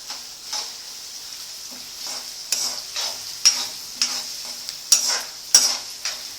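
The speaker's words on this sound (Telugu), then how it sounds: "కాగిపోయింది ఉల్లిగడ్డ" Chopped onions sizzle steadily in a hot pan, with repeated scraping stirs and sharp clicks of a spatula against the pan rising over the continuous frying hiss, close and alone.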